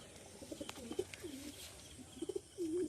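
Domestic pigeons coo softly nearby, several short throaty calls in quick succession followed by a longer coo at the end, faint against a quiet background.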